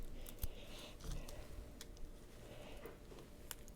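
Scissors snipping through a no-dry nail polish strip, a few faint, quiet clicks and cuts at close range in an otherwise hushed room.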